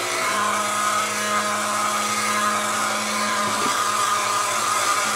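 A well-used blender runs steadily while mixing thickening homemade soap batter, a continuous loud motor whir with a constant hum that holds for several seconds, nothing else over it.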